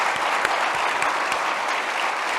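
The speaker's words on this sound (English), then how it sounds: "A hand of applause to everybody," Audience applause at an Indigenous-led clean energy gathering, a steady dense wash of many hands clapping, loud and sustained throughout.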